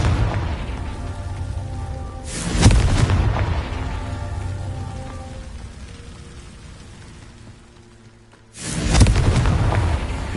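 Two heavy booming fire-spell blasts from the Confringo curse in Hogwarts Legacy erupt several seconds apart, each a loud close burst trailing into a rumbling, crackling decay over a low ambient background.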